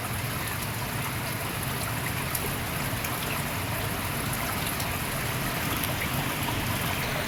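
Heavy rain falls steadily over village rice fields, a dense, even hiss of drops and running water at moderate level, continuous and without voices.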